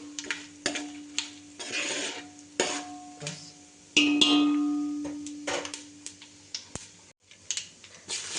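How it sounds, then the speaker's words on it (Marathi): Grated dry coconut is dry-roasted in a pan until reddish, with scattered scrapes and taps of stirring, light clicks and a steady low hum, fairly close and moderately quiet. "खोबरं जरा लालसर भाजून घेऊ"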